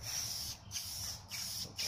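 Quiet hissing bursts from a spray paint can laying down paint for spray art, three or four steady sprays separated by brief pauses, close up.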